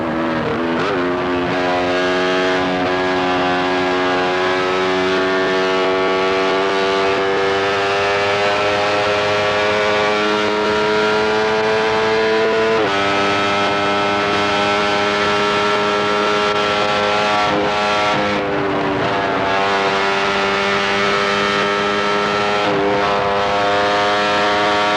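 A Benelli 350cc racing motorcycle at the 1993 Manx Grand Prix, recorded on board, gives a loud, continuous high-pitched engine scream. The revs climb and shift through gear changes, with no voices heard.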